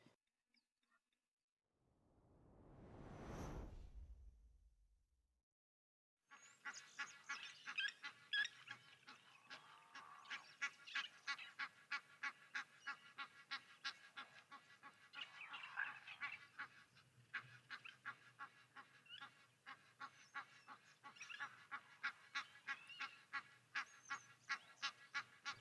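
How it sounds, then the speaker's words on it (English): Egyptian geese call at a Namibian waterhole, a steady run of repeated honks and hoarse cackles close by, preceded by a swelling, fading whoosh. "You can hear the Egyptian geese"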